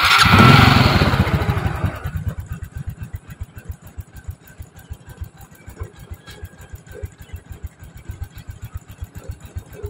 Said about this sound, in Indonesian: Oke, setelah itu kita starter.